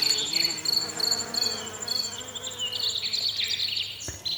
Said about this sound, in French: Sauterelles, grillons et criquets stridulent en écho au vrombissement et bourdonnement de